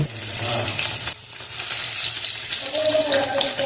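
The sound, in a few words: frying paneer pieces with turmeric in oil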